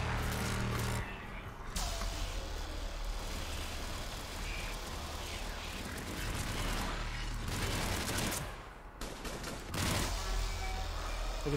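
Assault rifle fire in Mass Effect 3 as a sustained barrage of rattling shots, moderately loud and continuous, with short lulls and mechanical rumble between bursts.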